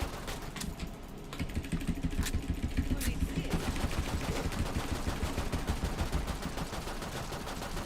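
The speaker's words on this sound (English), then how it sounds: "I'm shooting the shit out of him" Sustained automatic gunfire in Killing Floor 2 rattles in a fast, steady rhythm while shooting an enemy, loud and continuous, with a voice talking underneath.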